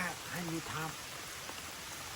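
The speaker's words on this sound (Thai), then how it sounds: "ฝนฝนก็เริ่มตกหนักนะ" Heavy rain falls as a dense, steady hiss, with a voice speaking briefly over it at the start.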